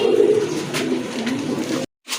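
A pair of Andalusian-colour pigeons coo in low, continuous murmurs close by, the calls running unbroken until a short silent gap near the end.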